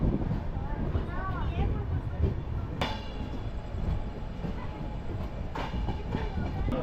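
A train rumbling along the rails near Virudhunagar railway station, Tamil Nadu, with steady low clatter and a few sharp metallic squeals, close and continuous.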